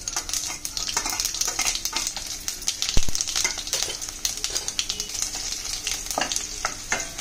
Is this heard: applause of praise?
no